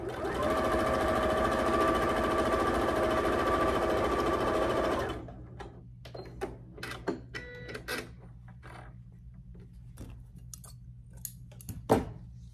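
A sewing machine stitches a seam joining quilt block triangles in a fast, steady whir for about five seconds, then stops, leaving soft handling clicks and fabric rustles with a sharper tap near the end.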